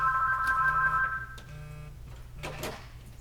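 A telephone rings indoors during a no-gi grappling live stream, a short electronic ringing tone sounding clearly for about a second and then fading away.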